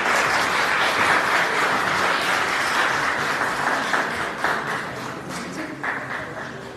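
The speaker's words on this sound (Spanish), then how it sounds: "Recibámosla con fuertes aplausos" Loud audience applause at a Mexican national oratory event, a thick wash of many hands clapping that holds strong and then gradually thins.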